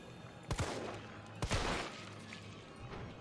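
Gunfire in Resident Evil 3 Nemesis: two loud clusters of quick shots cracking out about a second apart over a steady game background, followed by fainter noise.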